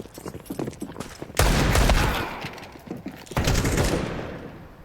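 Counter-Strike 2 gunfire during a GamerLegion vs ECLOT esports match: two loud, dense bursts of rapid shots, the first heavier, over a quieter stretch of game noise and faint commentary.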